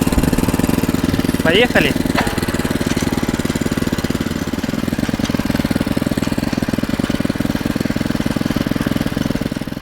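A walk-behind tiller's small engine runs steadily and loudly with a rapid, even chugging throughout, while a voice speaks briefly near the start.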